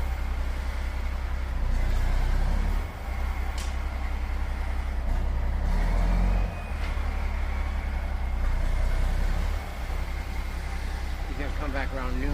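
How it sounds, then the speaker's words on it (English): Steady low rumble of a dump truck engine idling and running close by while delivering a load of dirt for an off-grid homestead driveway, with a faint hiss near the end. "So we got 2 dump trucks worth of dirt."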